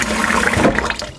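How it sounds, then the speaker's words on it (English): Water poured into a bowl of gari, a brief, loud, close rushing splash filling the bowl. "Put water in it"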